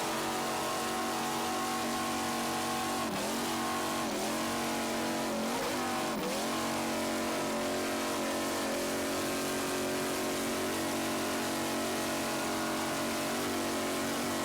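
A racing powerboat's engine roars steadily and loudly at an A-Class offshore race, a continuous high-pitched drone with slight pitch dips from throttle changes, heard alone without talk.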